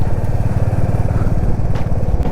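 A motorcycle engine runs steadily at close range with a low, throbbing pulse at the start of a 250-kilometre bike trip toward Manali, with no one speaking over it.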